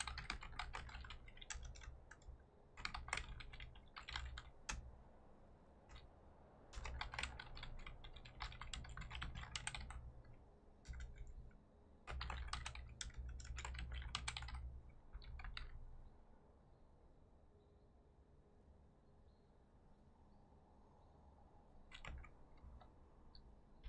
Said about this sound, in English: I'm just typing out this info real quick.